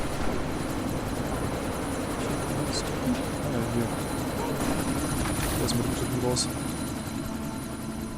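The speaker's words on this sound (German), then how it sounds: "wie halte ich diesen Helikopter auf?" A helicopter's steady rotor drone in the video game Deus Ex: Mankind Divided fills the background with constant low rumble, while someone speaks over it and faint chirps sound briefly.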